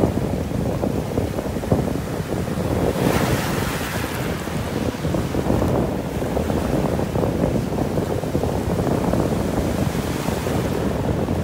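Ocean waves washing onto a beach in North Naples, Florida, loud and continuous, with a surge of breaking surf and heavy wind rumbling across the microphone.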